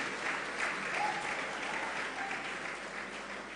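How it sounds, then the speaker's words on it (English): Conference audience at a tech week event applauding, a continuous even roar of clapping from a large crowd, moderately distant. "Please, can you give all of them a round of applause?"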